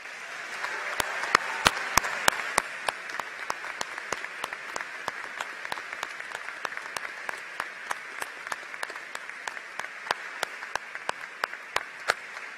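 Scattered applause from the audience at a college ceremony, with individual hand claps standing out over a softer bed of clapping, fairly quiet and spread across about thirteen seconds.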